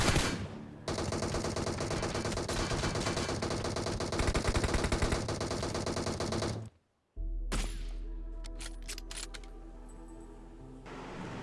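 M4 rifle and Kar98 gunfire in a PUBG-style battle game: a long, loud, dense automatic burst, a brief silence, then sharper scattered single shots and clatter.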